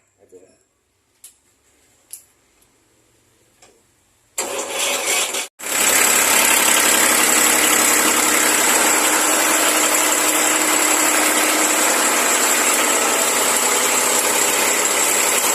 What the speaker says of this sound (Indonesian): Dicoba untuk pengelasan 4 mili.